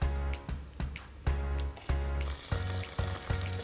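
A skin-on sea bass fillet sears skin-down in a very hot pan, a steady close sizzle with rhythmic pops and bursts of crackling fat as the skin crisps, heard on its own.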